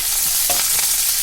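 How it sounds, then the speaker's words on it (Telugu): Curry leaves and crushed garlic frying in hot oil for a mint chutney tempering, a loud continuous sizzle with a brief crackling burst and stirring scrapes, no talking. "1 రబ్బ కరివేపాకు వేపేసుకుందాం"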